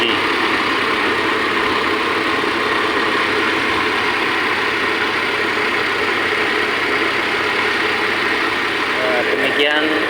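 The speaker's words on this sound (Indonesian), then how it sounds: "Dan posisi RPM-nya juga sudah langsam" A Toyota Innova engine idles steadily at low RPM, a continuous even rumble that runs loud and close throughout.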